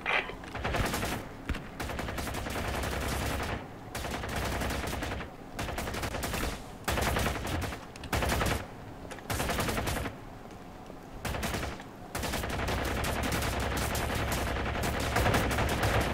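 Bursts of gunfire in the tactical shooter video game Ground Branch, repeated volleys of automatic fire separated by brief pauses, then a long unbroken stretch of shooting at moderate distance.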